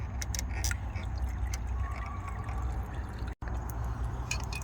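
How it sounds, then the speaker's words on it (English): Gasoline drains from a removed fuel pump assembly on a 2017 Ford Fusion, a steady close liquid pour and trickle running throughout with a brief dropout near the end. "As it drains, it comes out the gas."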